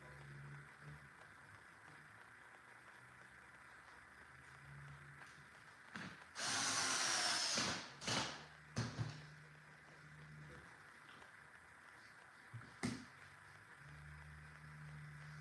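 A screwdriver drives screws back into the holes of a nitro RC car, with a long loud whirring burst in the middle and a few shorter ones later, each standing out against a quiet room.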